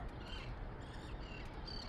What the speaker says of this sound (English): We have the seagulls. They are feasting on the water.